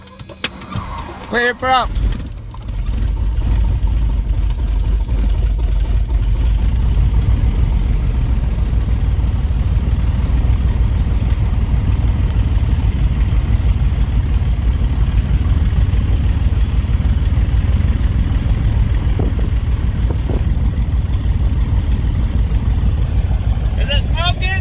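An abandoned airplane engine under rebuild starts with a few sputters and then runs loud and steady up close as a low continuous roar, with voices heard briefly at the start and end.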